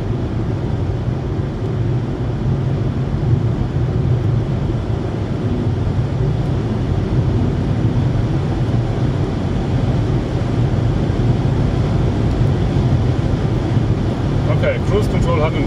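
Steady loud road and wind roar fills the cabin of an electric VW e-Touran cruising at 150 km/h, a constant broadband drone with no break from start to end.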